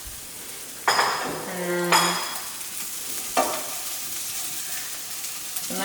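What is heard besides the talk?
eggs being stirred while frying in a pan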